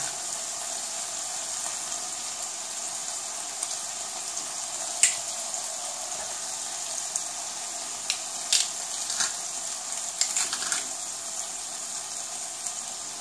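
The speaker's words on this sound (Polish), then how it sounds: "delikatnie jeszcze ten czosnek podsmażymy" Garlic cloves sizzle with bacon in a frying pan, a steady soft hiss with scattered small pops and crackles, continuous and without talk.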